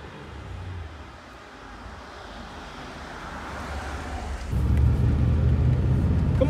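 A 1980 Rolls-Royce Corniche's engine hums as a steady, deep low rumble while driving, with road and wind noise throughout, swelling louder and heavier in the last two seconds; no one speaks.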